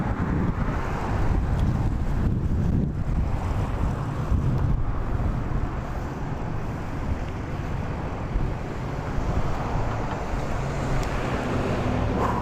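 Steady outdoor wind roars and buffets against the microphone as a dense, continuous low rumble, loud and close throughout, with no voices.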